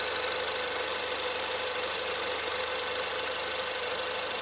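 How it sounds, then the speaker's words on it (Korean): A Ford Explorer with an EcoBoost gasoline engine idles under the open hood, a steady, smooth, fairly quiet hum with faint ticking and no voices. "정말 정숙하고 부드러운 이 익스플로러 차량 엔진 소리 한번 들려드릴게요."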